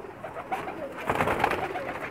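Champion pigeons, 2016 and 2017 winners, coo on a rooftop, a cluster of low throaty calls repeating close by with no talk over them.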